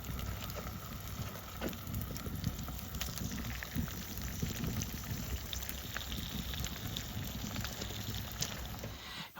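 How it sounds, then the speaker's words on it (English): Bacon sizzling directly over a campfire's heat outdoors, a steady crackling hiss with small pops scattered throughout, fairly quiet and continuous with no talking. "why cook the bacon on the pan when we could just directly cook it over the heat"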